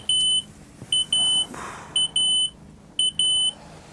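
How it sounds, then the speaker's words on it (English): A smoke alarm shrieks inside a caravan as smoke fills it, sounding sharp, piercing high beeps in repeated bursts, a short chirp followed by a longer tone, loud and close over a faint background hiss. "Within seconds, the smoke detector is shrieking."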